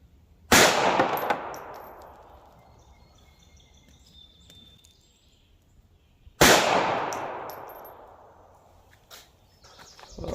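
Two sharp, loud gunshots from a Glock pistol firing .380 ACP Federal HST rounds into ballistic gel, several seconds apart, each with a long decaying echo outdoors.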